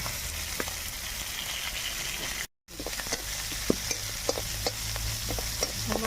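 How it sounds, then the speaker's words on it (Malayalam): Green chillies and garlic fry in a pan for amla pickle, a continuous sizzle broken by scattered clicks and scrapes of stirring, close and even, with a brief silent cut partway through. "നന്നായിട്ടൊന്ന് ഇളക്കി"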